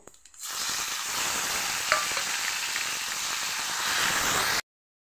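Tomatoes dropped into a hot pan with garlic hiss into a loud, steady frying sizzle that continues evenly for several seconds, with a brief utensil clink partway through, before cutting off abruptly.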